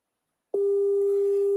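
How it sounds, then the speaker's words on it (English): A telephone call tone sounds alone after a brief silence, a steady loud electronic tone holding without a break while the call goes unanswered. "The call is ringing, but no answer."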